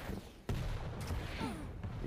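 Rocket fire in the video game Quake Champions during a tournament qualifier match: a sudden booming blast followed by a second, lighter impact, set against a dense, continuous wash of in-game noise.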